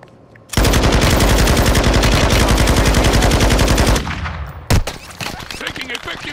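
A sustained burst of rapid automatic gunfire in a shooter game hammers away loudly and close for about three and a half seconds. It then tapers off, followed by a single sharp shot and quieter scattered sounds.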